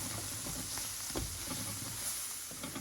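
Flour cooking in hot oil into a thick roux-like paste for clams in seafood sauce, giving a soft steady sizzle with faint stirring scrapes, quiet and close.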